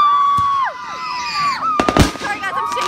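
Fourth of July fireworks whistle and crackle outdoors, with rising and falling whistling shells overlapping, then a burst of sharp pops and crackles near the end, fairly loud and close.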